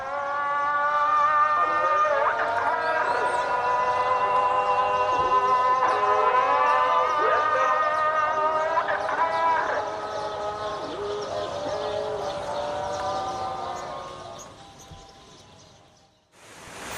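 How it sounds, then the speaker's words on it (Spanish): Several muezzins' calls to prayer drift over the Fez medina, long melodic voices overlapping and echoing from a distance, holding steady before fading away near the end. "el canto de los muecines llamando a la oración"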